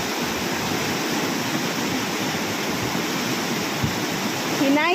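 Strong floodwater rushes in a steady, loud broadband roar, constant and close throughout, with no let-up.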